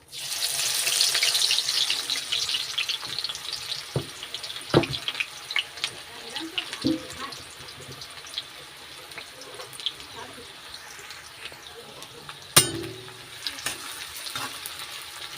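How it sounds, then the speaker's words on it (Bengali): Chopped onions sizzle and fry in hot oil in a pan, a steady hiss close up with occasional clinks and stirring scrapes, and a few brief sharp knocks. "এখন আমি দিয়ে দেবো পেঁয়াজ কুচি"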